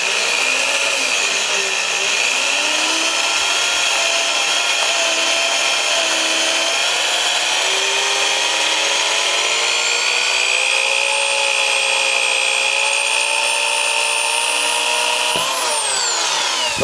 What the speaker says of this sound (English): hold the drill straight and slowly start drilling it